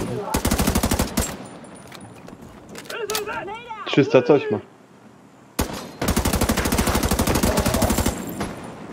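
Rifle fire from The Division 2 comes in two long rapid automatic bursts, the first opening the moment and the second closing it, with someone talking in the gap between them.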